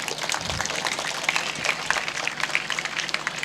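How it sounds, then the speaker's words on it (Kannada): An audience applauds award winners at an awards ceremony, a dense, steady wash of clapping from a crowd that continues throughout. "ಜೋರಾದ ಚಪ್ಪಾಳೆ ಸಾಧಕರಿಗೆ."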